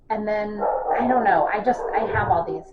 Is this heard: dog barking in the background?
yes